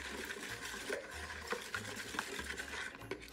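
Egg mixture being stirred into a yeast dough for peppermint beignets, a soft wet churning and scraping repeating steadily in a bowl close by, with no talking.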